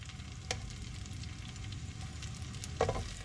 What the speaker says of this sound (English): we're just gonna add these to the pan. We're gonna, roll them around till they're all browned up